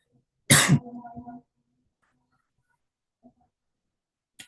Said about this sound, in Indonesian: saya lagi sedikit batuk